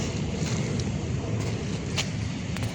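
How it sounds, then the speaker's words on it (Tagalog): Waves wash steadily against the shore at Manila Bay's Dolomite Beach, a continuous low surging rumble with light wind noise on the microphone and no voices. "nakaka-relax pakinggan yung hampas ng alon"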